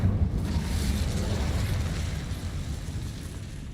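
A fiery Incendio spell cast in Hogwarts Legacy, a loud, sustained whooshing roar of flame that starts with a burst and stays strong and dense for several seconds with no talking.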